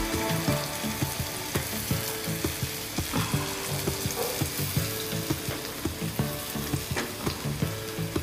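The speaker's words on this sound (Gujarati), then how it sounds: "તેલ આપણે ગરમ થઈ ગયેલું છે. હવે એમાં આપણે લસણ નાખી દઈશું." Green garlic frying in hot oil, a dense and continuous sizzle and crackle that stays loud and close throughout, with frequent small pops and light stirring and no voices.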